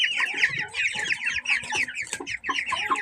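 Farm chickens at about thirty days old cluck in a close, busy chorus, with overlapping calls that run continuously and fairly loud, and no one talking over them.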